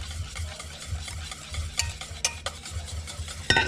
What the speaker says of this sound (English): now we're going to beat the eggs into the carrots